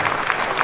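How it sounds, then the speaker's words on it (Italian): Audience applause for the Banco Riasca choir at a festival of tavern choirs and folk songs in Bobbio, a brief steady wash of clapping with no voices. "un applauso ancora al coro Banco Riasca."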